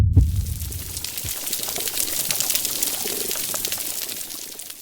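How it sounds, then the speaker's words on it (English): Underwater ambience from a healthy coral reef, a dense crackling and snapping texture with a brief low thump at the start, steady and moderately loud throughout. "Listen, that's the sound of the healthy coral reef."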